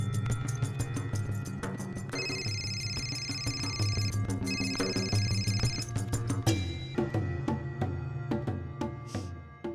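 A phone ringtone chimes in repeated bursts over a steady background of music and clatter, moderately loud and sustained for several seconds.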